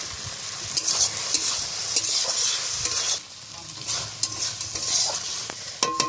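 Fish fries in a banana leaf over a wood-fired village stove, giving a steady close sizzle with frequent scraping and stirring clicks from a utensil and no talk.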